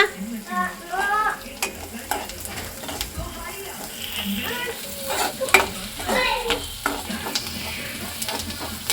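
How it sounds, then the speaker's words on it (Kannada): Mushrooms for mushroom pepper dry fry and sizzle in a pan while being stirred, with busy scraping and clinking, and a voice talking over the cooking now and then. "ಅದು ನೀಟಾಗಿ ಗೋಲ್ಡನ್ ಬ್ರೌನ್ ಬರೋವರೆಗೂ ಫ್ರೈ ಮಾಡ್ಕೊಳ್ಳಿ"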